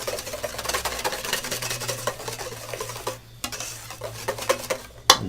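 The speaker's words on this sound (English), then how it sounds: "And just whisk that in." A whisk beats salt and pepper into a bowl of hollandaise sauce, giving a steady, close run of rapid metallic scraping and ticking with a few sharper clinks near the end.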